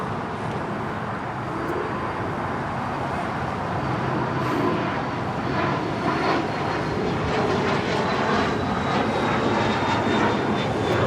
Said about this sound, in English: 1039 coming in from a hot Dallas-Fort Worth on a 777-200ER.